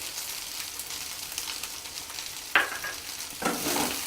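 Crisp rice fare with green coriander is tossed in a pan over faint sizzling, with two distinct scrapes of the spoon against the pan near the end, quiet and close.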